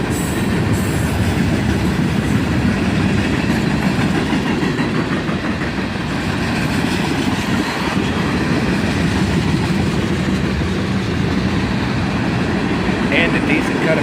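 A CSX mixed manifest freight train carrying tank cars rolls past close by, a loud, unbroken rumble of wheels and rattling cars that lasts throughout.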